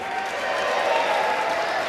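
Dense applause from a large crowd in the chamber during the House Speaker vote, steady and loud throughout, with a faint murmur of voices mixed in.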